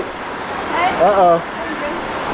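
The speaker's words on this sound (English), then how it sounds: "Got the waterfalls here" Rushing rainy-season waterfalls in Kirirom National Park, Cambodia, give a steady broadband roar throughout, with people speaking briefly over it.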